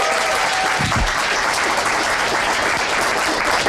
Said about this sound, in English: Another fantastic crowd here in the Cologne TV studios here at the home of ESL.